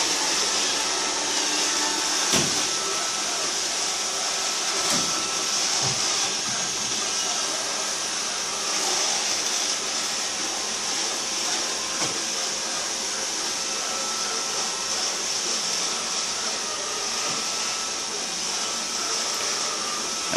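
Pursonic i7 and Roomba 550 robot vacuums running indoors, a steady close whirring motor and brush drone held without a break, with a few faint knocks as they move around.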